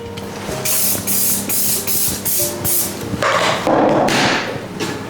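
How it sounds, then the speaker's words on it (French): Cooking grease spray hisses from a can in short repeated bursts, then a longer spray, loud and close in a pastry kitchen while financier batter is prepared. "Du spray graissant"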